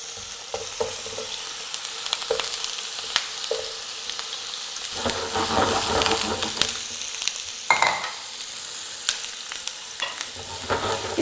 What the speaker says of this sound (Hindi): तो अब इसे हम थोड़ा सा फ्राई करेंगे।